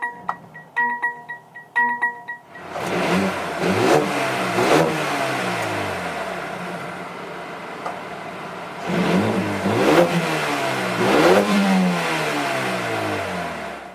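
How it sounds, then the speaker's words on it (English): A 2020 Mercedes-AMG CLA 35 fires up after a few soft chimes, its engine catching with a loud flare of revs, settling to a steady idle, then blipping again with a second sharp rev before dropping back. "we can go ahead and start it up"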